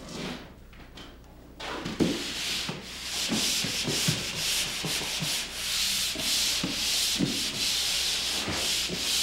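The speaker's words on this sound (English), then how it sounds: "I start the sanding with a pole sander using a 120 grit or finer sanding screen or paper" Pole sander fitted with a 120 grit screen scraping across drywall in long repeated strokes, a close, steady gritty rasp with soft knocks between passes, after a short quiet start.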